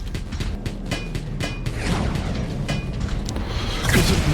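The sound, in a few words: rocket guns firing in the video game Wall World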